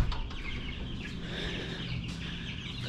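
Chickens and young chicks cluck and murmur softly inside a garage, a low steady flock chatter with occasional sharper calls and a constant background hum, no talking.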